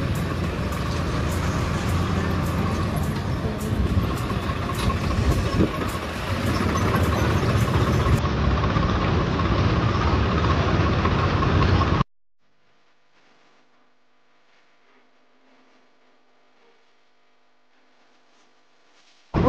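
A tractor engine runs loud and steady at close range for about twelve seconds with no talk over it, then cuts off abruptly into near silence.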